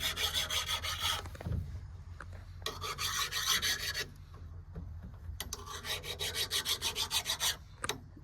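A chainsaw chain being hand-filed at a hemlock felling site makes repeated rhythmic rasping strokes in bursts, close and fairly loud, with short pauses between sets.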